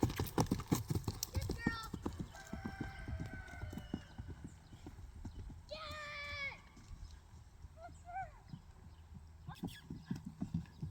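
A horse lopes on its left lead during a free ride, with steady rhythmic hoofbeats throughout, several whinnies partway through, and a person talking over the footfalls.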